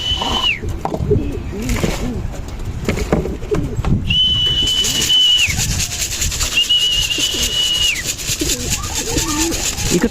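Pigeons in a loft during hot weather, with soft coos and fluttering mixed among a busy bed of bird noise and rustling, while a voice talks intermittently and repeated high steady whistle-like tones sound nearby.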